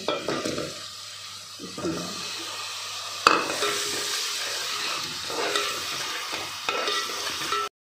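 Halved potatoes dropped into a hot pot for mutton kofta curry, a quieter stretch then a sudden splash that kicks up a loud, steady sizzle and hiss with some stirring.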